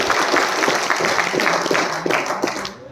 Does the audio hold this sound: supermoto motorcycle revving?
no